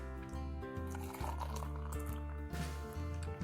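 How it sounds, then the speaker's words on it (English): Water pours into a cup holding a spoonful of granulated Nescafé instant coffee, a steady close trickle rising slightly in pitch as the cup fills, with a low hum underneath. "pour it on my cup, and some water"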